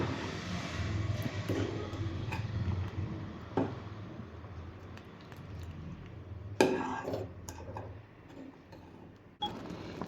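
Sabudana payasam (sago kheer) being stirred in a pot, with light intermittent ticks and scrapes of a spoon against the vessel over a low background hum, plus a few sharper clinks.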